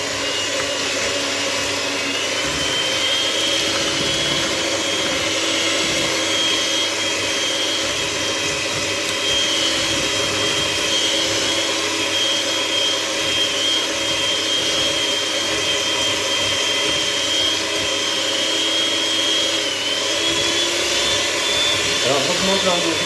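An electric hand mixer whips an Omelette norvégienne mixture over a bain-marie, whirring steadily and loudly with a constant high whine for more than twenty seconds. Speech is heard underneath the whirring.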